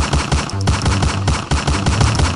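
Rapid gunfire from an animated Huggy Wuggy cartoon, a dense run of loud repeated shots filling the whole moment with no voices over it.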